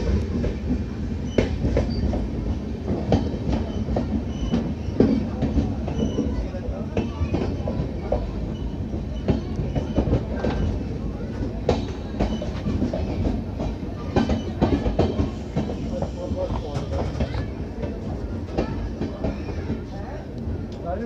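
The 14033 Jammu Mail passenger train rolls on rails approaching Samalka railway station, giving a continuous rumble with rattling clatter and faint squeals, steady and close from inside the carriage.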